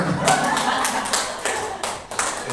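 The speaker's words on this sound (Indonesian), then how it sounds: "wes tepuk tangan" A short burst of clapping from a small group, with scattered overlapping claps and voices mixed in.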